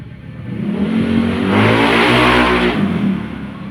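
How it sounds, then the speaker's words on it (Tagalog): A motorcycle or tricycle passes close by on a busy street, its engine swelling to a loud whine and fading away over a few seconds. "Maingay po. Sa tabi po na dahil kasi marami dumadaan na tricycle dito tsaka motor."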